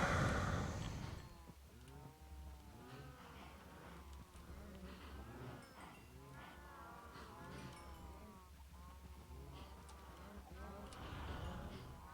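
Cows in the video game Minecraft moo over and over, close and overlapping throughout, under a faint steady hum.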